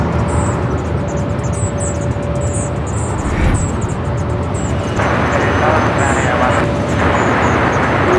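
A Copa Airlines jet rolls down the runway for takeoff at LAX, a loud, broad, steady engine roar heard close and continuous, while a voice talks over it.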